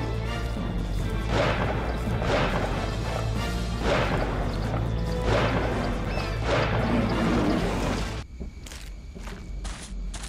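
Poison shot attack from a Triceratops video game: a steady run of rapid splashing, crashing bursts repeating about every second and a half over a droning background, then cutting off into sparse clicks.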